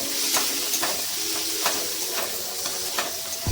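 Spices with chilli powder and biryani masala sizzle in a hot pan for a vegetarian biryani, a steady close hiss with faint stirring scrapes at regular intervals and no talking.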